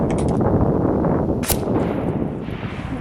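A Crosman 2240 HPA PCP air pistol fires a single sharp crack in the middle of a steady outdoor field background, with no one speaking.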